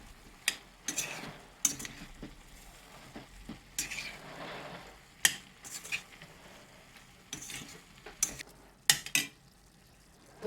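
Taco chicken filling frying in a pan with cream and seasonings, stirred with a spoon: repeated sharp scrapes and clinks against the pan over a faint steady sizzle, close up, in irregular bursts.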